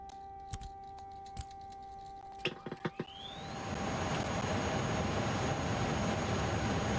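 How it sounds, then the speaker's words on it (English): Steady broadband wind rush fills the A300-600R cockpit in Microsoft Flight Simulator, rising after a few soft clicks and switch taps and then holding loud and constant to the end. "Sounds pretty good. Just very windy."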